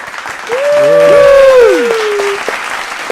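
Applause sound effect for a comedy podcast episode, a steady wash of clapping lasting about two seconds, overlaid by loud sliding, whistle-like tones that swoop up and down before fading.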